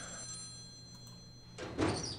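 A telephone rings faintly in the X-Files video game, holding a steady electronic tone before a louder burst near the end, with no voices.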